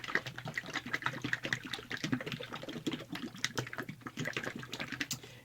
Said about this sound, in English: I'm going to make sure my glaze is shaken really well.